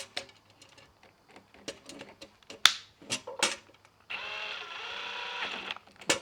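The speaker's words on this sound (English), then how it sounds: "This is where I think we might be better off with the drill." A cordless drill drives a bolt while a Wixey WR510 digital planer readout is fitted to a DeWalt 735X planer. Scattered taps and clicks come first, then a steady, close, high whine runs for about two seconds.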